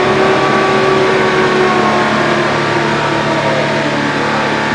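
A mini-truck engine with a 5-speed gearbox and PTO dump revs loud and close as the clutch is let out, a sustained rough roar that holds steady throughout.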